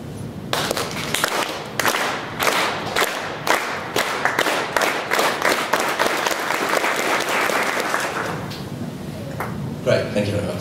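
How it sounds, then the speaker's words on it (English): An audience at a lecture demonstration claps together, first in sharp, distinct, rhythmic claps, then denser and less regular until it merges into a steady round of applause, close and loud. "we end up with something that sounds a lot like a round of applause"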